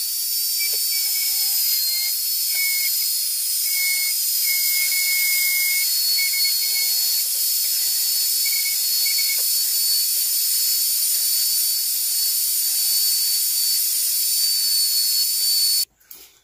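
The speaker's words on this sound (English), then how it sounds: "We'll be putting it into this little router here." A router cuts grooves into a wooden sign, giving a loud, continuous high-pitched whine with a hissing edge that holds steady for about fifteen seconds before stopping abruptly.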